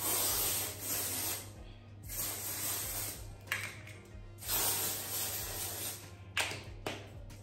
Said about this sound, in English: Work the Room perfume body spray.